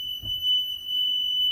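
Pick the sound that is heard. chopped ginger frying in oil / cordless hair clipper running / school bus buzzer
school bus buzzer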